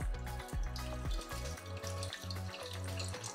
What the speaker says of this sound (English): All I'm gonna do is pour this back in, apart from the very bottom amount